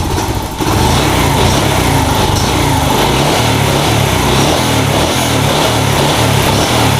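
A Yamaha Jupiter Z1 motorcycle with an injector fault runs at close range, a loud buzzing engine note rising as the throttle opens, then holding a steady rev.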